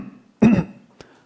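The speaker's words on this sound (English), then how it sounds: "you want to clear your throat." A single short, rough throat clearing sounds close up in a quiet room, a brief gravelly burst followed by a faint small click.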